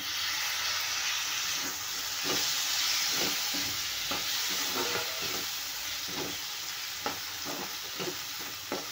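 Tomatoes fry and sizzle in hot oil for a dried prawn chutney, with a steady close hiss broken by repeated soft scraping strokes as a spoon stirs the pan, and no voices.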